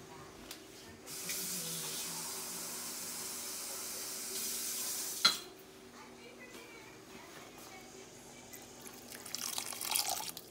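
Water poured into a pot of simmering pinto beans, a steady hissing splash lasting several seconds with a sharp clunk near the end, followed by quieter bubbling and rustling.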